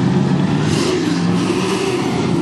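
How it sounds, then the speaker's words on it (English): Stock cars race at Portland International Raceway on a cool, cloudy day, their engines roaring and revving in a loud, continuous, dense wash of sound with no voices. "the first Great American Stock Car Challenge is underway for Portland International Raceway here."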